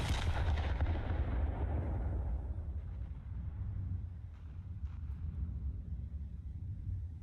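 Heavy battleship guns fire in the War Thunder naval game with a deep, loud boom that rolls into a long, rumbling decay and fades over several seconds, with no voices present.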